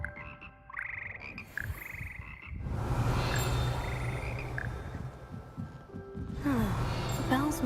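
Frogs croak from a frog coil in the video game Hogwarts Legacy, a steady chorus of repeated croaks layered over ambient game sounds and music throughout.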